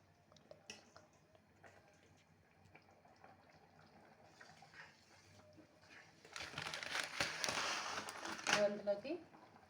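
Water poured straight into a pan while making semiya vegetable upma, a loud splashing gush of about two seconds following quieter kitchen noises and talk.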